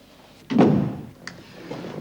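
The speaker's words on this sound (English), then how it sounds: "Close the door." A door in a women's prison cell block is pushed shut with a dull, heavy thunk, followed by a faint latch click and low room noise.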